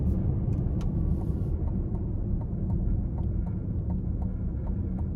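A 2024 Chevrolet Equinox EV 2RS Launch Edition with a front-mounted electric motor cruises on a test drive, giving a steady, fairly quiet cabin hum of road and tyre noise with faint ticking.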